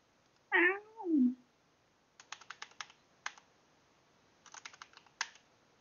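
A pet cat gives two close, clear meows, followed by scattered bursts of quiet computer keyboard typing.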